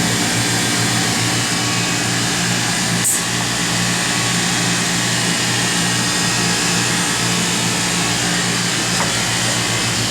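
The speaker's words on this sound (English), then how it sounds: "The plasma's off, pumping back down to base." An Oxford Plasmalab 100 ICP etch system with its plasma off pumps down to base vacuum, a loud steady mechanical hum and whine that stays constant throughout with one brief click.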